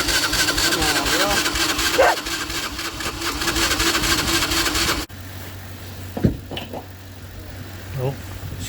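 A cheap ATV engine runs with a rough, steady mechanical rumble for several seconds, then drops to a quieter idle, while people talk over it.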